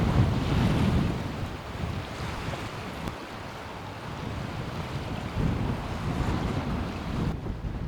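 Strong wind gusts buffet a sailboat at sea, a continuous loud roar of wind across the microphone mixed with rushing waves and surf, swelling and easing in gusts with no voices.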